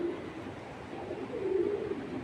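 A racing pigeon coos softly in a loft, a low murmuring coo rising and falling over faint background noise.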